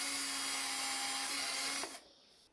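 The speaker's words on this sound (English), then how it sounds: "you will need to drill your intermediate posts with a 9mm drill bit" A 9mm drill bit bores through a stainless steel balustrade post, a loud steady whine with a sustained tone that cuts off sharply near the end, leaving only faint residual noise.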